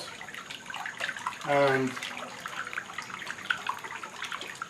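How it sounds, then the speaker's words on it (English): Salt water draining out of a catfish hatchery tank, a soft running, trickling flow with a brief louder gurgling burst, heard faintly beneath a voice. "you are going to release the salt water out"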